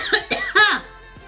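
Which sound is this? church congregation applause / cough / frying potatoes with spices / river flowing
cough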